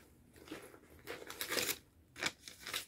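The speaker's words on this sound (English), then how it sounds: "Little like plastic and paper trash." Plastic and paper trash taken out of a purse crinkles and rustles in several quiet, close bursts of crackling handling with brief pauses between, no talking.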